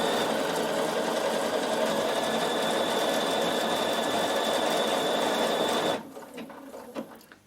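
A Bernina sewing machine stitches boiled wool for a coat, a steady close mechanical whir running for about six seconds before stopping, followed by soft handling sounds.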